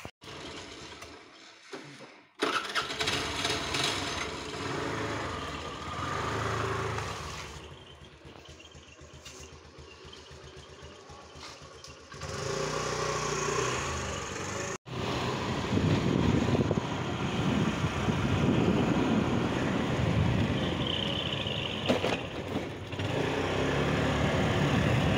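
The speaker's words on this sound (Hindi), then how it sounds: "तो अब जाते हैं स्कूटी में ही" A scooty started up for a trip to the shop, its small engine idling and then running steadily and fairly close, with a brief cutout partway through and no talking.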